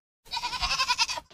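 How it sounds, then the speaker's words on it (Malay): Several goats bleat in a quick, lively run of calls, close and fairly loud, with a short pause before another bleat begins; no one speaks. "Tetapi kambing-kambing itu berlari sambil mengembik"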